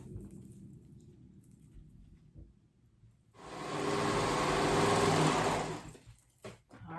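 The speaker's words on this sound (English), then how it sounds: "I'm gonna finish pinning this all the way down and sew those two sides together." A sewing machine stitches the side seams of a high-low dress, running in one continuous whirring burst of a few seconds after quieter handling noises, then stopping.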